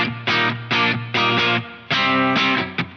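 An electric guitar with a mild overdrive and the pickup coil-tapped plays a series of crunchy, sustained chord stabs. The strokes are loud and close, with short gaps between them and no voices.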